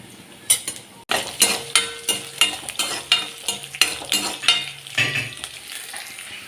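Sliced green chillies, onion and dried red chillies fry in a pan with a soft sizzle, while a spoon scrapes and stirs in regular close strokes; no one talks.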